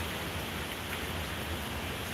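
Steady, dense hiss of heavy hurricane rain with a constant roar of wind from the east, in Punta Gorda, Florida, loud and unbroken throughout, no voices.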